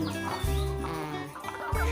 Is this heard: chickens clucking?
yes